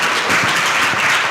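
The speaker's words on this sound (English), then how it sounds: "please another round of applause for them" Audience applause for a youth performance group at a community talent day, a dense, steady wash of many hands clapping throughout.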